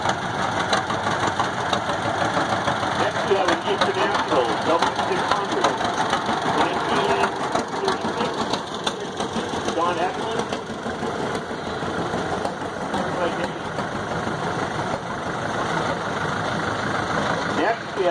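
A 1946 John Deere A tractor engine chugs steadily at idle with a knocking rhythm during an engine show tractor parade, moderately close, alongside a background voice.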